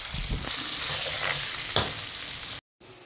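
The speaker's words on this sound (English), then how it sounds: "Next goes the curry leaves. I'm adding 3 to 4 red chilies as well. Fry them well" Curry leaves and 3 to 4 red chilies fry in hot oil in a pan, a steady close crackling sizzle with a few louder pops and stirring scrapes, cutting off briefly near the end.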